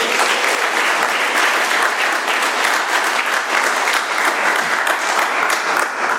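Sustained audience applause at an AA meeting in Doylestown, Pennsylvania, many hands clapping steadily at even loudness for several seconds, with no speech over it.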